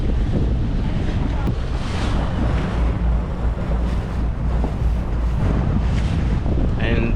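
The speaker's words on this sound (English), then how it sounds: "So we're going through lots of bumpy waves." Boat bouncing through rough, bumpy waves in open sea off Hidd, Bahrain: steady loud surge of water and wind buffeting the microphone, with hull slaps throughout and no speech.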